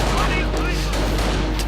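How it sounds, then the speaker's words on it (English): Machine gun fire in the real-time strategy game Company of Heroes, a dense continuous fusillade of rapid shots with a low steady rumble beneath, with faint speech mixed in. "this machine gun is covered by that machine gun"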